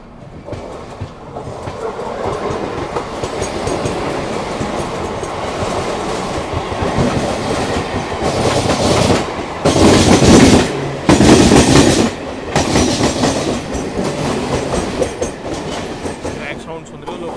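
A Rajdhani Express runs along the track with a loud, continuous rumble and rhythmic clickety-clack of wheels over rail joints, swelling into a louder roaring passage near the middle, with brief talk mixed in.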